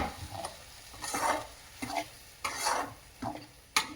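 Ground masala goes into a hot frying pan and is stirred in, with soft sizzling and a run of scraping strokes, each a brief burst, ending in a sharp clink of the spoon.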